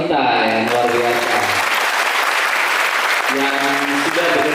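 Applause from students at a motivational seminar in an Indonesian vocational school, loud and continuous, with music playing over the start and end of the clapping.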